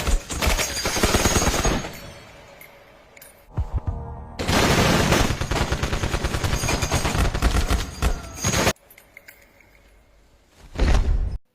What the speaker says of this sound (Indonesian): Anak buahnya yang mendengar Taha sudah tidak punya uang lagi dan bangkrut, akhirnya anak buahnya pun menembak Taha dengan membabi buta